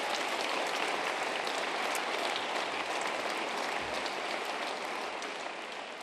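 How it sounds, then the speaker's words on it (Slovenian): An audience at a regional sports awards ceremony gives a big round of applause for the nominated athletes, a steady dense roar of many hands clapping that holds throughout and eases slightly at the close. "dajmo jim en velik aplavz"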